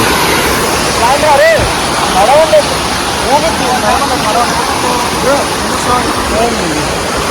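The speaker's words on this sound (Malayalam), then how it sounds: "വെള്ളച്ചാട്ടം" Loud, steady roar of a waterfall filling the whole scene, with faint voices half buried beneath the rushing water.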